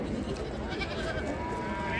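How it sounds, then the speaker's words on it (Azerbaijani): Sheep and lambs bleat in a dense, overlapping chorus at a crowded livestock market in Ganja, with a steady babble of crowd noise underneath throughout. "Quzulu qoyunlar."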